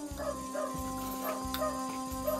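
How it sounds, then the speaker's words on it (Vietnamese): A dog at a rural Vietnamese house with tin roofs gives a few short barks, about four spaced yips and woofs at a steady rhythm, close by and moderately loud over a background hum. "Chó nhà ai đây?"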